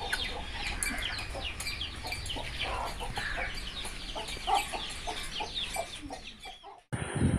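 Hen and chicks at a house, the hen clucking in short repeated bursts while chicks cheep quickly and continuously around her, close and fairly clear.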